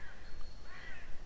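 A crow caws in the background of a video game's ambience, a couple of faint, drawn-out calls over steady low room noise.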